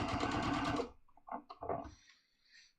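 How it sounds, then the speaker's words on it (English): A sewing machine stitches twill tape near the edge of a pair of pants with a fast, close whirring burst of about a second, followed by a few quiet handling clicks. "So I'm going to sew it near the edge."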